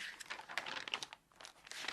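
Close, busy crinkling and crushing of thin magazine paper continues with only a short lull near the middle, loud and dense with no talk.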